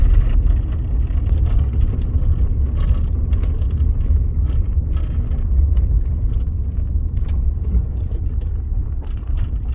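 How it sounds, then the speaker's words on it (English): A car drives over a very bumpy road, heard from inside as a loud, continuous low rumble with small knocks and rattles throughout and no talking. "Still driving."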